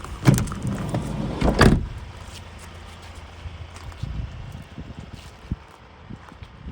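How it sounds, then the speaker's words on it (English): A Ford Tourneo Custom van's twin sliding doors slide and thud shut twice in quick succession up close, followed by quieter shuffling and small clicks. "Twin sliding doors."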